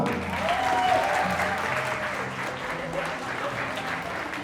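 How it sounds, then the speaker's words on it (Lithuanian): Audience applause welcoming art teacher Ričardas Venskūnas at a school talk event, a steady, dense wash of clapping from a crowd that holds fairly even throughout, with a faint voice briefly rising above it. "gausiais plojimais dar kartelį pasitikime mūsų dailės mokytoją Richardą Venskūną"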